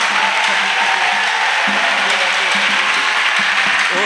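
A church congregation applauds loudly and continuously, dense close clapping filling the room at an even level with no pauses.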